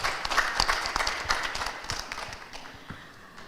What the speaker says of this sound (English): Let's give applause for him.